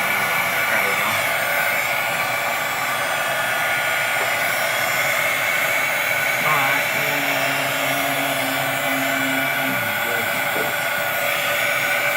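A hot air rework tool blows steadily on a soldering tip, a loud continuous whooshing hiss with a faint hum, while someone speaks now and then beneath it.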